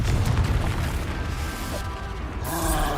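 An Expulso blasting spell goes off in Hogwarts Legacy, making a loud, sustained booming roar with rumbling mechanical debris that fades toward the end.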